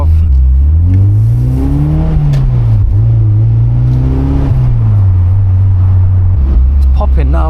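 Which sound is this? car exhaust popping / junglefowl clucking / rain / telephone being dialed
car exhaust popping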